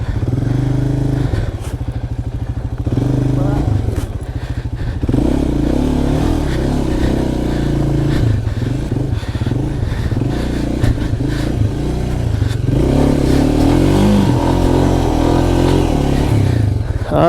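A Loncin Voge LX300GY adventure motorcycle engine starts up and revs repeatedly, loud and close, with rising and falling bursts of throttle over a steady idle, plus some clatter and scraping nearby.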